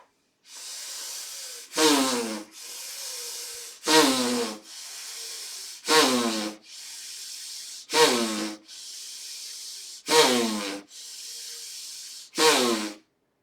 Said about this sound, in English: the noise that you should feel in doing the third kind of the breathing